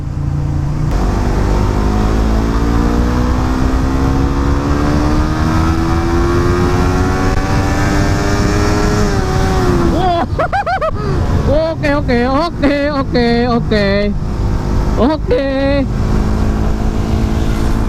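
A Suzuki GSX 150 Bandit motorcycle engine revving hard at high RPM, a loud, rising whine climbing steadily, then several rapid throttle blips in the second half, with someone talking over it.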